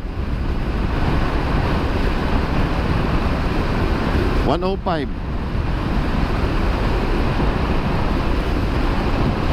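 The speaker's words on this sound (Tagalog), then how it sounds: "Open air. Malakas yung hangin." Strong wind roars steadily past a Yamaha NMAX V2 scooter ridden in the open air at top speed. A constant loud buffeting fills the clip, with a brief voice heard partway through.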